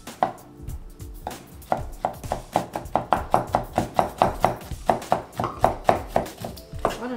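Knife rapidly chopping nuts together with brown sugar on a board, a quick run of sharp, close taps with brief pauses, no talking.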